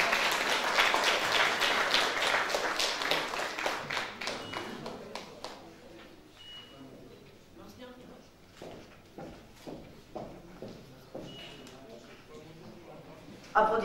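Audience applause at a school sports award ceremony in Razgrad, loud and dense at first, then thinning into scattered claps and taps toward the end.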